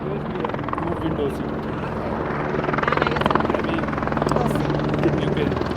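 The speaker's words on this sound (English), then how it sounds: "It's a fantastic helicopter, isn't it?" An Air Zermatt helicopter's engine and rotor drone steadily at close range on a flight toward the Matterhorn, a loud continuous whirring hum, with voices faintly present beneath it.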